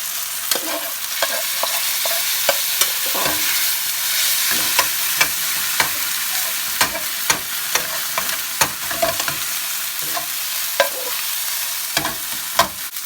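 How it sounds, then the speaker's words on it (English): Chicken tikka masala curry ingredients sizzle in a pan with a steady hiss, broken by sharp scrapes and taps of a utensil stirring at irregular intervals. "So that's sizzling quite a bit, hopefully you can hear me."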